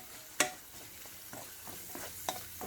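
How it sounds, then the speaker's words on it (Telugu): Green chillies and turmeric frying in a pan with onions: a soft, steady sizzle broken by a few sharp clacks of a spoon stirring against the pan, with no talking. "ఇప్పుడు పచ్చిమిర్చి, ఒక నిమిషం వేయించుకోవాలండి."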